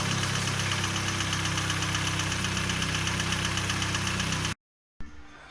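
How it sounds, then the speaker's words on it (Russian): A car engine idles loud and close with a slight, steady knock ticking through the running noise; it cuts out abruptly near the end, leaving a quieter hum. "Вот, чуть постукивает."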